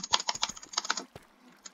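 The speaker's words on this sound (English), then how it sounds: "I'm excessively typing my space bar" A computer keyboard's space bar is tapped over and over in a quick, uneven burst of close, crisp clicks, trailing off into a couple of scattered final presses, with no talking.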